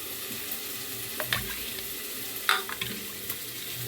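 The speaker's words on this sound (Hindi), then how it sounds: "ये मेरे भुन रहे हैं टमाटर, फ्राई हो रहे हैं इसमें कुकर में" Tomatoes sizzle and fry in a pressure cooker, soft and steady, with a few scraping stirs and clinks of a utensil.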